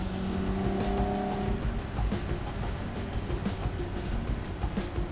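A 1963 Ferrari 250 GTE engine running while the car is driven, a continuous throaty drone with slight swells in revs, heard from close by inside or beside the car.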